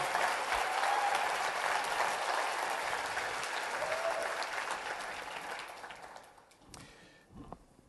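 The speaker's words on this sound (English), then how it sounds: "Give them a round of applause." A crowd at a sports nutrition product presentation breaks into sustained applause, dense and steady at first, then gradually thinning to scattered claps before fading out.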